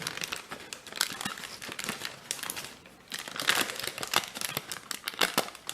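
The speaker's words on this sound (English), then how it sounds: "we're going to make a mountain fold here" Paper crinkles and crackles as it is creased into an origami mountain fold for a dobsonfly model, a close, quiet run of irregular crisp rustles in two bursts.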